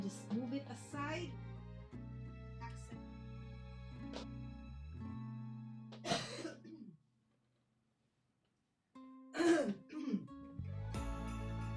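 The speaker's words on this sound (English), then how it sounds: "My coughing fit is back." Several bursts of coughing and throat clearing break up a quiet indoor moment during a crafting session, arriving in two clusters separated by a brief silence, with a steady low hum beneath.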